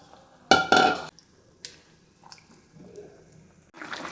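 Eggplant pieces go into boiling potato curry broth with two quick, loud splashing sizzles close up, followed by softer bubbling and light pot clinks, then another sizzling burst at the end.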